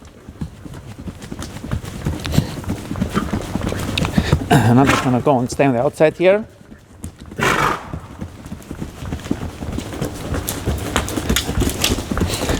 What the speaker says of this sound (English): And from here I'm going to go into tölt.